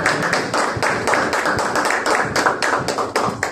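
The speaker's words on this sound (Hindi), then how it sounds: "और खुदा के कलाम को पुरजोर तालियों के साथ वेलकम कीजिए।" Church congregation clapping in unison, sharp regular beats of many hands striking together, loud and rhythmic in a reverberant hall.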